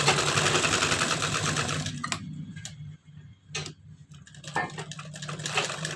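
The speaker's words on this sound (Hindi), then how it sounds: "इस पे हम इस पे सिलाई लगा लेंगे पहले इस तरह। तो इस तरह से सिलाई लगा लेते हैं।" A sewing machine stitching a blouse sleeve, with rapid ticking runs of the needle, pauses and short bursts before it runs again, close and fairly loud.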